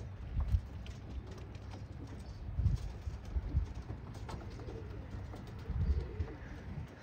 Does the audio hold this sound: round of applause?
no